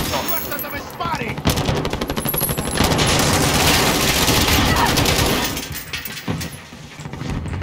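Rapid automatic gunfire in the video game Call of Duty Warzone, loud, dense bursts of machine-gun fire that build into a sustained fusillade before easing off, with a voice briefly heard over the shooting.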